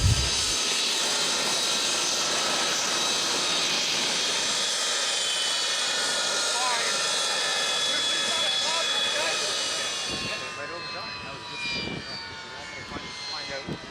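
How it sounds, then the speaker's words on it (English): Jet aircraft of the Breitling Jet Team, a civilian aerobatic team, fly at an air show: a steady, loud, broad jet roar with a whining engine tone that shifts as the planes pass, with a voice talking over it. "The Breitling jet team is a full-time civilian aerobatic jet team"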